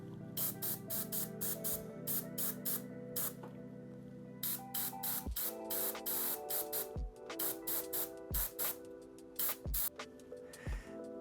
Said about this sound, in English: I've mixed blood red in my airbrush, and it's quite heavily thinned again